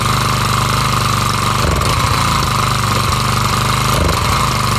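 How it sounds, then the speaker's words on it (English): A Craftsman 34cc 4-stroke string trimmer idles close by with a loud, steady buzzing rumble that briefly stumbles and sputters a couple of times. No one speaks. "This thing idles pretty good."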